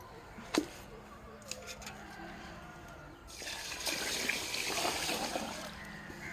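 Water poured over black gram (urad dal) set to soak, a steady splashing trickle that starts about halfway through and keeps running at close range.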